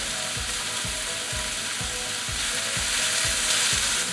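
Mushrooms sizzle and fry steadily in a pan for a scallop and shrimp dish, with a fast, regular stirring tick running under the hiss; no voices.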